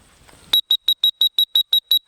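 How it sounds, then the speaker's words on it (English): A dog training whistle gives eight short, sharp, loud beeping blasts in an even rapid rhythm, preceded by brief low rustling, during duck dog handling training outdoors. "A solid blast to the whistle with your hand up."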